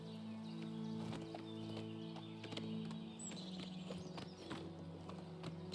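Hooves of a black horse clip-clop at a walk in a fantasy video game, the steady footfalls sitting over a droning tonal game soundtrack at a low level.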